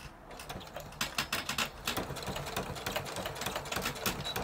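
A sewing machine back stitches a seam at the opening of a fabric holder, its needle and gears clattering in steady mechanical bursts with brief pauses, close and fairly loud.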